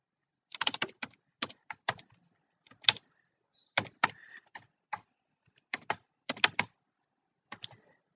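A computer keyboard clatters as someone types code, with irregular clusters of close, crisp keystrokes separated by short pauses in an otherwise quiet room.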